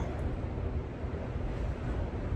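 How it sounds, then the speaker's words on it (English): Strong wind roaring steadily across the top of the Stratton Mountain fire tower, a loud, dense rush buffeting the microphone with no break for the whole stretch. "I just wanted you guys to hear the wind."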